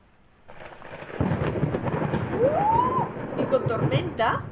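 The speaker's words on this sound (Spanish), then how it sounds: "Tormenta." A thunderstorm in the video game Layers of Fear on Xbox One: a deep thunder rumble swells and rolls on with the hiss of rain, and a brief tonal sweep rises partway through.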